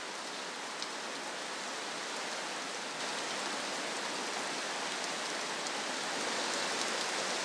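Heavy rain pours down in a Borneo jungle, a dense, steady hiss of falling water with scattered drips, unbroken and fairly loud from start to finish without any talking.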